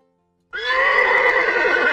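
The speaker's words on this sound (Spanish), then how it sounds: "Caballo." A single loud, close horse neigh bursts in after a half-second of silence and holds as a sustained, wavering whinny to the end.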